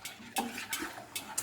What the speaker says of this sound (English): I like to keep stirring it